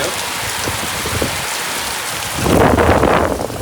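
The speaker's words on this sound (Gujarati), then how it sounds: "હે ભગવાન, અચાનક વરસાદ આવી પડ્યો." Heavy rain pours down at night outside a home, a steady dense hiss that swells louder and closer partway through, with no voices over it.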